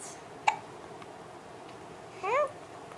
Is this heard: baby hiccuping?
yes